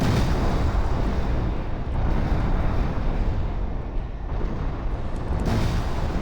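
An explosion in the video game Armored Core 4 fills the clip with a dense, loud, rumbling blast that roars continuously without pause.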